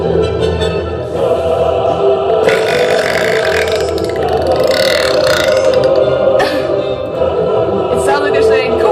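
A loud, unbroken stretch of throaty burping runs for about nine seconds, its pitch wavering like a voice shaping a tune.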